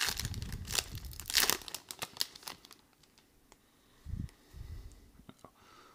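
The plastic wrapper on a sealed trading card display box crinkles and tears in close, busy bursts, then gives way to quieter handling taps and rustles.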